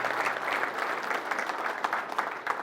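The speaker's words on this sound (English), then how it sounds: "Give him a round of applause" An audience at a corporate opening event applauding, a dense, sustained clapping of many hands in a large room, fairly even throughout.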